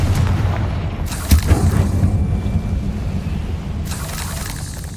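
A Confringo fire spell goes off in Hogwarts Legacy as a deep booming blast over a low rumbling game ambience, followed by a crackling burst and a fading tail.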